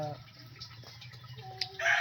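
Broiler chickens cluck and a rooster calls amid backyard farmyard ambience, with some faint voices in the background.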